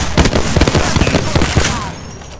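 Rapid bursts of gunfire in Apex Legends crack out in a quick stuttering rhythm, loud and close, fading as the shooting stops.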